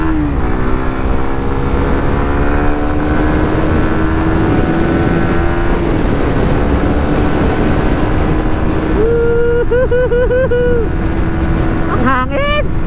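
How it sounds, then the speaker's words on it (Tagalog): Loud, steady wind roar buffets the microphone while a Suzuki Raider 150 Fi motorcycle rides at speed, engine drone rising in pitch underneath, with a rider's voice briefly heard near the end. "Ang hangin!"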